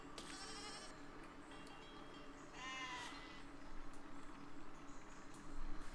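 Sheep bleat in the Besiege video game, several quavering cries in a row, moderately loud above a constant low rumble of game ambience and faint thuds.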